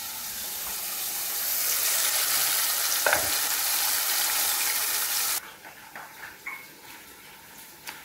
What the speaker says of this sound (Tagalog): At the moment, nagluluto kami ng prito ng isda.